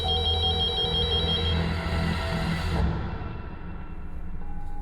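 A telephone ringing in a dramatized household scene, a steady electronic ring tone repeating over a low background drone, fading partway through.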